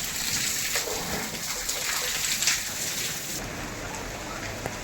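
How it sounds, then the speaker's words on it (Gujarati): Heavy rain falling steadily in a village, a dense continuous hiss of water on surfaces that stays even and fairly loud throughout. "અમારા ગામમાં તો બહુ વરસાદ છે."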